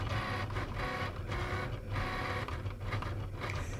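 A Cricut cutting machine whirs steadily as it draws with a silver pen held in its accessory clamp, a continuous mechanical hum with small rhythmic stepping shifts, close and alone without voices.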